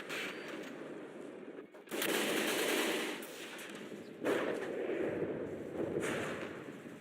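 Naval guns firing in a video game battle, bursts of dense crackling gunfire that swell and recede in waves over a constant background roar.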